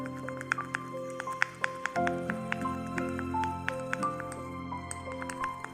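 Homemade nail whitening paste stirred in a small container, with soft wet squishing and clicking taps in an uneven rhythm, close and quiet, alone without talk.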